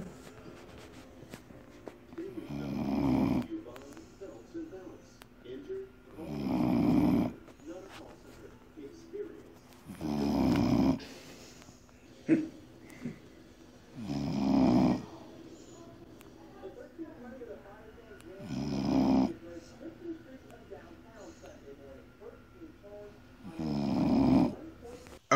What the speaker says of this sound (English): Do you hear him? Do you hear him? Yeah, he's snoring.